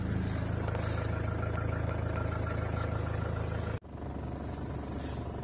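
A 1996 Mazda MPV engine idles steadily while warming up to operating temperature, a continuous mid-pitched hum heard up close with no talk; it breaks off abruptly for a moment before a lighter idle carries on.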